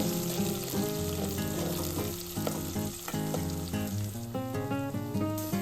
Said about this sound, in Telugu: మనం ముందుగా చిన్న చిన్న ముక్కలుగా కోసుకున్న ఉల్లిపాయలు అందులోకి వేసుకొని మంచిగా కలుపుకొని ఎర్రగా అయిన తర్వాత